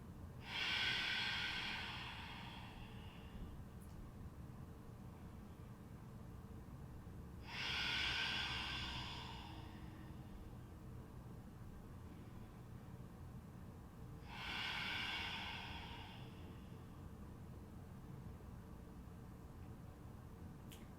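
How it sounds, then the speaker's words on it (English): Slow ujjayi yoga breathing, air drawn in and out through the nose with a throaty rasp, three long hissing breaths spaced several seconds apart over a quiet room hum. "Take a few ujjayi breaths, cleansing breaths with me. In and out through the nose, swirling the air, the back of the throat, that Darth Vader breathing."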